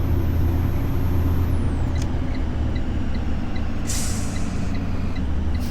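A route bus in the driving game Rigs of Rods, idling in a low rumble, with a sharp hiss of air brakes toward the end and faint clicks, with no voices.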